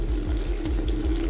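A dripping, leaky tap in a shabby prison bathroom where all the faucets wobble, giving a steady, close trickle of running water with no talking.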